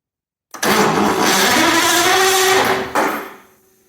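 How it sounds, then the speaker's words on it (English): A jerry-rigged starter motor cranks a 27-litre V12 Bentley engine, starting abruptly with a loud whirring churn that runs about two seconds, then a second shorter burst before it winds down and fades. "This is my jerry rig starter motor"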